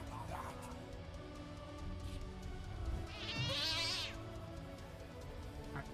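A cat meow sound effect plays in a video game being built during a live stream, a short wavering cry over low background music and clatter.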